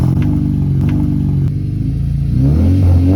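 A 2006–2011 Honda Civic Si with its muffler removed idles and revs, a loud, raw engine drone that rises in pitch toward the end.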